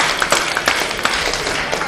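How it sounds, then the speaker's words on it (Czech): Audience applause at a Prague student robotics competition: dense, steady clapping with scattered sharper claps, fairly loud and continuous throughout, without a clear voice on top. "oba dva týmy si zaslouží potlesk"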